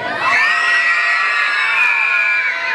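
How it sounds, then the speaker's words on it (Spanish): Children and girls in a large crowd at a parish festival shout and whoop together, a loud sustained cheer filling the whole stretch. "¡Grito de los niños y las niñas de este lado!"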